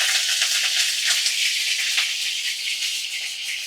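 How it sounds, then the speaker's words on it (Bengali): A katla fish head fries in mustard oil over a medium flame, giving a loud, bright, continuous sizzling hiss that stays fairly even throughout, heard close with no talking. "একদম মিডিয়াম ফ্লেমে রেখে আমি মাছের মাথা ভেজে নিচ্ছি"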